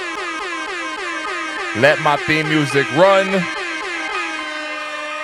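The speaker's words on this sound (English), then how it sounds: "we got 1, 2, 3 air horns and a whole abundance following behind it" Air horn sound effects opening a podcast episode, a sustained blaring horn tone running the whole time with a few louder stacked blasts in the middle, while someone talks over it.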